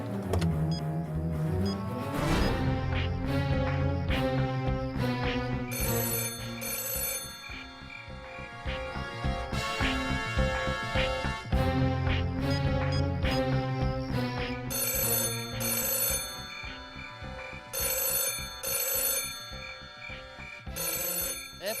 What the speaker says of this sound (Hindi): देखिए कहीं फोन तो नहीं बज रहा है।